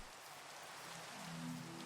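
Steady rain patters across a surface in a clay farming video game, a soft continuous wash of drops at moderate level with a faint low tone rising near the end.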